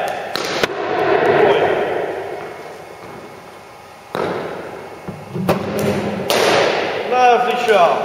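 Several sharp, loud cracks of a cricket bat striking the ball during a batting practice session, spaced a few seconds apart, with voices nearby.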